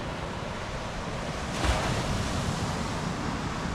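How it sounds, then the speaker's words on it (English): A small ocean wave breaks on a Hawaii beach with a short swelling wash midway through, set within a steady roar of surf and wind noise on the microphone. "And there's a little wave."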